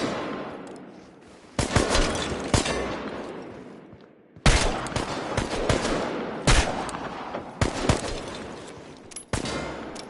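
Gunfire in the video game Chernobylite comes in loud, sharp bursts and single shots, separated by quieter gaps, with rapid automatic fire and echoing reports spread across the scene.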